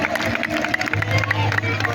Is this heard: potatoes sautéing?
no